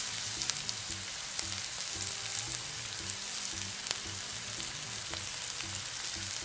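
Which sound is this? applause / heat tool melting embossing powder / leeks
leeks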